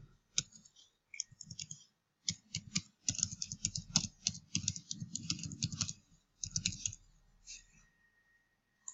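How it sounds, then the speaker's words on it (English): Someone types an email address on a computer keyboard, producing close, crisp key clicks in quick irregular runs separated by short pauses. "I have to type my email at the website address here"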